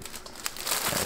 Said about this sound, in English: Let's go ahead and work with our X-Acto knife of choice and just split it right down the middle